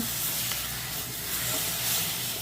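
Sweet corn gravy masala with a little jaggery is stirred in a pan, giving a steady soft sizzle and hiss with faint scraping throughout, close and continuous, with no voices.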